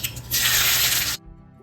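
Mustard seeds, shallots, broken dried chilli and curry leaves dropped into hot coconut oil for a drumstick and jackfruit-seed curry give a loud, close burst of hissing sizzle that cuts off abruptly after about a second.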